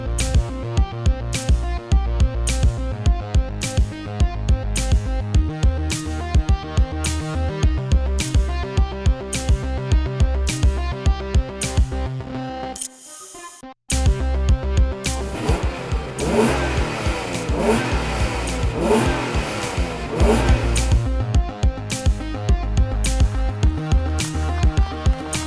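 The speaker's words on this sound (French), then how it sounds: "vous allez voir comment le V6 Honda se dégourdit les bielles" A 1994 Honda NSX with a 3-litre V6 is driven hard, with a loud, close engine note rising and falling through revs and gear changes, a brief quiet break midway, then more acceleration, with no talk.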